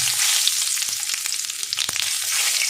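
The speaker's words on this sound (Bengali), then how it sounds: "এই তেলের মধ্যে আমি ফোড়নটা দিয়ে দেবো, একটা তেজপাতা দিয়ে দিলাম আর দিয়ে দেবো গোটা জিরে" A bay leaf and whole cumin seeds hit leftover fish-frying oil with a bright, steady sizzle and quick scattered crackles and spits, heard alone at close range.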